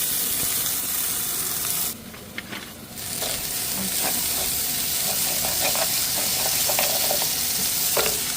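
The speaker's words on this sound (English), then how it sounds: "I'm gonna toast my rice." Rice toasting in hot cooking oil in a pan, a steady close sizzle with frequent stirring and scraping clicks, briefly quieter near the start before the frying hiss returns loud and continuous.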